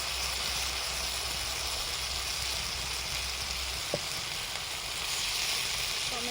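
Potatoes frying for a meat curry give a steady, close sizzle with a broad hiss that holds evenly throughout, broken only by one brief clack near the end.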